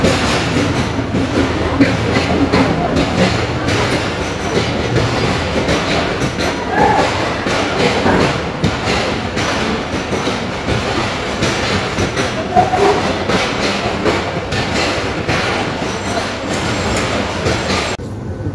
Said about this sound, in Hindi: लीड कर रहा है जाफर एक्सप्रेस को one of the best powerful locomotive